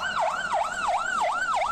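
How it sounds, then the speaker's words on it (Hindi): An ambulance siren wails in steady, repeating rising-and-falling sweeps, loud and continuous, with no voices over it. "और जैसे ही एम्बुलेंस अस्पताल में दाखिल हुई, वहां के कर्मचारी ग्रुप कैप्टन वरुण सिंह को"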